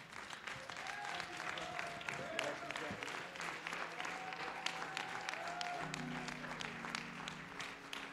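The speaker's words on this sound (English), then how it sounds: "Come on, clap your hands, everybody." Congregation at an all-night prayer gathering clapping to welcome a bishop, sustained crowd applause mixed with voices and tonal sounds, steady and fairly loud throughout.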